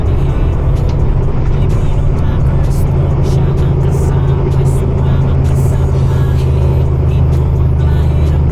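A car engine drones steadily while climbing a steep uphill mountain road beside a cliff drop, a continuous low hum with slight whirring, close and constant throughout.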